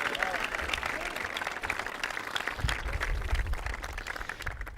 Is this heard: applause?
yes